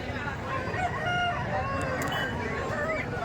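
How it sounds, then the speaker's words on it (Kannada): Several roosters crow over one another amid clucking hens and a faint murmur of people in a busy native-breed chicken market in Kundarapalli. "ಕೋಳಿಗಳು ತುಂಬ ಕೋಳಿಗಳು ಬಂದಿದ್ದಾವೆ"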